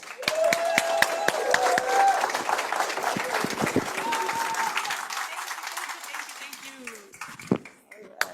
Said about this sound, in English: give yourself a big round of applause for being here